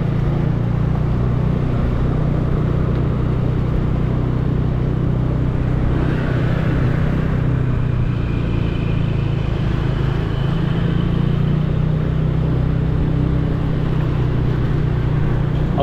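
Steady loud rumble from inside a car driving along Kayu Jati Street in Seminyak, Bali, continuous engine and road noise throughout with a slight swell midway and no talking.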